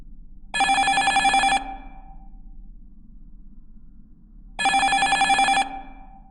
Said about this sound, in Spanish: sonó otra vez el teléfono